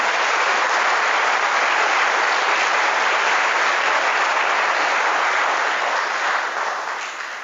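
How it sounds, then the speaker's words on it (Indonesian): Audience applause at a gathering of Indonesian army and police soldiers, a dense, loud, continuous roar of clapping that holds steady throughout and fades slightly at the end. "Tepuk tangan."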